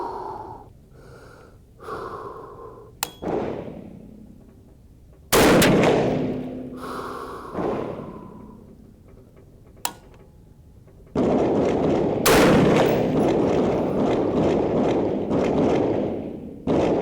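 Shots from a 350 Legend rifle firing a 17.2-grain H110 load on an outdoor range: several loud, sharp reports spaced seconds apart, with breathing and handling noise between them.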